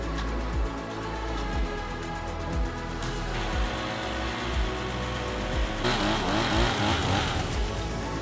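Heavy trucks rumble and rev at close range while inching past an avalanche on a mountain road in British Columbia, with low engine drone, repeated throttle surges and crunching thuds throughout.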